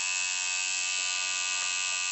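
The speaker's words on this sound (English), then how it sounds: "This is the sound of a properly tuned tattoo machine shader." A steady, high electric buzz from a properly tuned tattoo shader machine, running continuously without skips.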